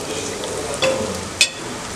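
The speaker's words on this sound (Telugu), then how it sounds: "మామిడికాయల్ని ఇలా వేసుకొని వేపుకోవాలి" Raw mango pieces fry with chicken in a pan, a soft steady sizzle broken by a couple of brief stirring clinks.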